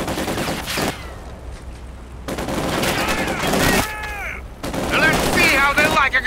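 Gunfire in the WWII strategy game Company of Heroes 2, bursts of machine-gun fire and shots crackling in rapid volleys, mixed with shouted in-game voices and a quieter lull midway.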